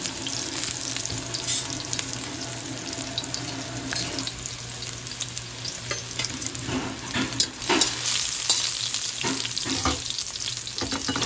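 Garlic sautéing in oil in a pan, a continuous close hiss and crackle with occasional utensil knocks and scrapes, no talking.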